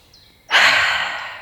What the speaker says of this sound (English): let's do it through the mouth this time on an exhale a few more times